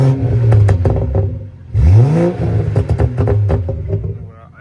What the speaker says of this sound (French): la carte est programmée pour que la voiture fasse des pops